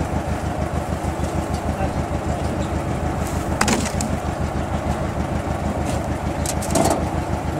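A tractor engine chugs steadily with a low, rhythmic throb, loud and close throughout, with a couple of brief clanks on top.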